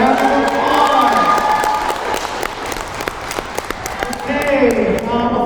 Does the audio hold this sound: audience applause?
yes